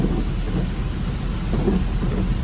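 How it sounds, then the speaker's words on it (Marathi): Heavy rain pours in a forest at a tiger reserve near Chandrapur, a continuous, dense roar with a deep rumbling undertone, steady and close throughout. "लय जोरात पाऊस आहे बरं का पूर्ण जंगल आहे"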